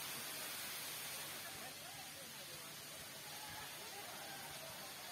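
Navankond waterfall in Devgad makes a constant, hissing rush of falling water that fills the scene evenly, faint and distant, with no clear breaks.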